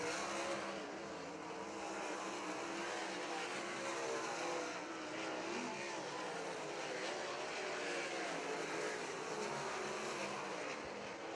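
Race cars at Crystal Motor Speedway during a GLSS MichiganCAT heat race, engines roaring steadily down the backstretch in a continuous loud drone with no breaks.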